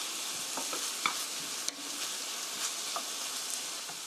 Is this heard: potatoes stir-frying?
yes